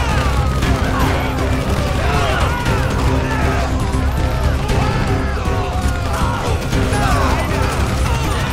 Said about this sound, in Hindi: भाई क्या गोलियां चल रही है इधर।